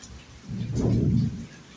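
Thunder rolls during a rainstorm, a single deep rumble that swells and fades over about a second, with steady rain noise underneath.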